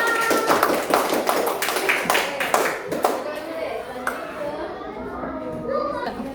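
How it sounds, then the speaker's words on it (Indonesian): Children in a classroom clapping together in a dense, lively burst that gradually thins out and fades, with children's voices and chatter mixed in beneath and after the claps. "Tepuk tangan buat semuanya."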